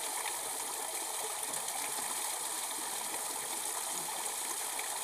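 Water pours in an unbroken, hissing rush for an outdoor shower on rocky moorland, close and constant throughout with no voices.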